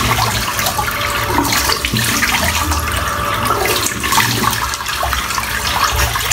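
Water running into a bathroom sink after a shave, a loud steady splashing rush that continues unbroken from start to finish, close up, with no voices.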